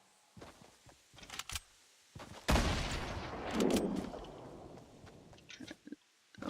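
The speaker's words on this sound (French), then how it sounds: "j'ai entendu la grenade, j'ai entendu le tir" Grenade blast and gunfire in a first-person shooter video game: sharp cracks early on, then a loud sustained explosion burst with a rumbling tail, followed by scattered lighter shots and impacts.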